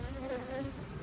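Honey bees buzz loudly and continuously right at an opened hive during an inspection, a dense close drone with no talk.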